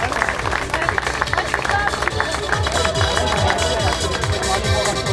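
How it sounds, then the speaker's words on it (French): Crowd clapping at a triathlon awards ceremony in the Jura, loud and continuous with a rhythmic edge, blended with cheering, hubbub and music in the background. "donnez un applaudissement pour Lynn,"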